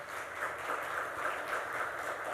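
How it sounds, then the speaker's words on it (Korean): A church congregation at a Sunday morning service in Chile gives welcoming applause, a soft, even wash of many hands clapping at a distance, steady for the whole moment. "우리 잠깐 환영의 박수로 이렇게 해주시겠습니다"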